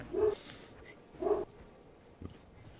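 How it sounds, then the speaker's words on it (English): A dog barks twice with a pause between, then gives a softer third yelp, each bark fairly loud and close against a quiet room. "But listen, he's barking."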